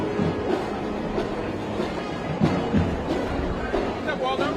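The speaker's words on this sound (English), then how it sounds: "Watch out about that subway." A subway train rumbles past in a busy street setting, a steady rolling roar with faint rhythmic clatter, under people talking nearby.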